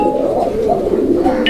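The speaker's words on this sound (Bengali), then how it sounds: "এখানে চমৎকার আরো এক জোড়া কবুতরের কালেকশন আছে" Pigeons at a market pigeon stall coo in low, continuous throaty murmurs, close and fairly loud, with a brief chirp near the end.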